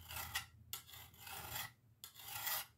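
Hand file rasping along the edge of an old knife blade being restored, three slow scraping strokes with short pauses between, close and fairly quiet with no talk.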